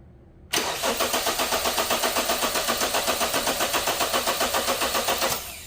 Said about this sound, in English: We crank the car.